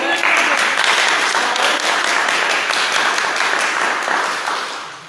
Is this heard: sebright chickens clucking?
no